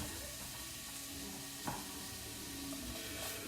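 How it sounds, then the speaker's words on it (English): Onions sizzling in olive oil in a saute pan, a soft steady hiss and crackle with one brief clink partway through. "Hit a little bit of olive oil. And we're gonna add our onions to it."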